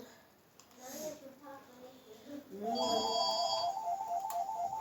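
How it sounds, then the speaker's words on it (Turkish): A telephone ringtone plays in a home, a short repeating electronic melody that starts softly and then grows steady, while voices, including a child's, talk over it. "Telefon."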